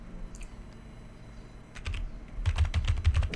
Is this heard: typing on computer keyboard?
yes